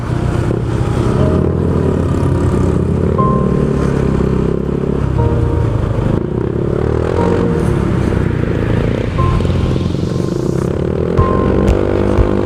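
Cars and motorcycles pass on a busy road, making a continuous loud mix of engine drone, revving and passing whooshes with occasional clatter, close by and with no voices.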